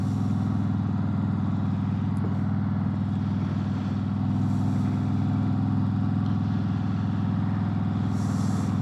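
Harley-Davidson Road Glide Limited motorcycle cruising with its exhaust, a steady deep low throb and engine rumble under constant wind noise, even in level with no clear revving.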